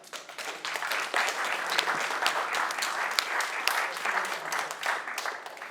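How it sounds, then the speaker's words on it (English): An audience claps steadily, a moderate round of applause from a room of people that holds at an even level without voices. "We have a round of applause."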